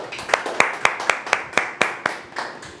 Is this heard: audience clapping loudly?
yes